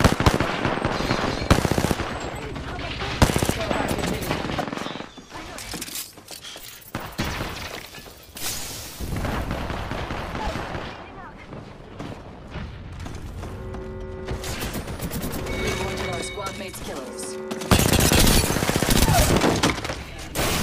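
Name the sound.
gunfire in the video game Apex Legends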